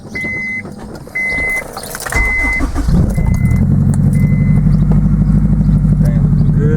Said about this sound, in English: let's get that cold start going